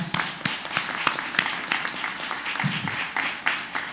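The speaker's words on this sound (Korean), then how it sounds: "하나님께 박수 올립니다" A church congregation claps at a New Year's Eve service as the year turns from 2023 to 2024. The clapping is moderate and uneven, with scattered sharp claps over a diffuse room wash and faint voices underneath.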